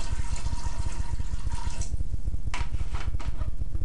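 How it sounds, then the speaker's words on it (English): Water poured into a metal pot for heating sawdust fire starters, a steady continuous splashing and trickling stream, close and fairly loud, with a few brief bright surges toward the end. "So what you want to do is pour some water in"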